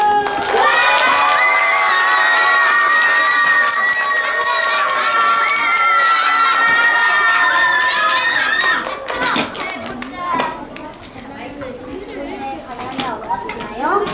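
A crowd of third-grade children cheers loudly in high, overlapping voices as an audience salutes student speakers at a school fair, then the noise breaks into lively chatter, shuffling and scattered claps.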